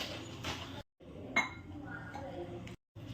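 A spoon clinks against a bowl while whisking melted ghee with two spoons of cornflour for bakery-style khari, giving brisk scraping clinks and taps between short pauses, close and moderately loud.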